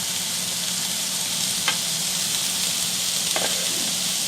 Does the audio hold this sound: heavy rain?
no